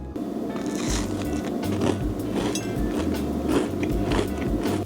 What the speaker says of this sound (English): It has a really nice and crunchy outside.